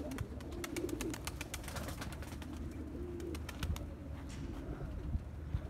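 Pet pigeons (a female miski) cooing softly in a loft, low steady coos repeating close by amid busy background bird chatter and faint clicks.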